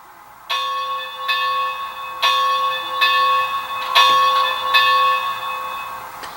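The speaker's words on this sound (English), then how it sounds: "And number 1 is the bell." Bell of an HO scale Bachmann Spectrum 2-8-0 steam locomotive model with DCC sound, ringing in steady repeated strokes about once every second, bright and metallic, close and alone.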